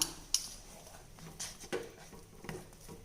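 A spoon stirs rava kesari with cardamom powder in a pan. It gives soft, scattered scraping taps and light clinks at an irregular pace, quiet and close.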